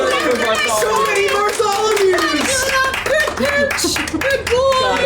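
Several tabletop players clap together during a Dungeons & Dragons game session, a scattered patter of hand claps mixed with cheering voices and excited chatter that runs underneath.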